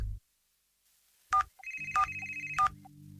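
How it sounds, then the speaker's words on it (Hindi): A mobile phone keeps ringing after a wrong button press, its repeated electronic ringtone bursts sounding close and clear after a short quiet start. "इस मोबाइल फोन की आवाज बंद ही नहीं हो रही है"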